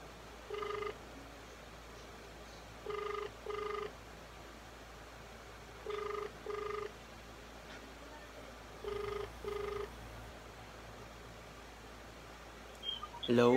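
Telephone ringback tone heard through a handset while dialing a random number for a prank call, four evenly spaced double rings over a faint background hiss, no talking.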